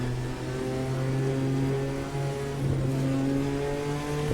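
BMW M4 GT4 race car engine in Automobilista 2 at Long Beach, heard from on board: a sustained, steady engine drone with strong tonal harmonics that dip briefly and climb again as revs shift, at moderate loudness.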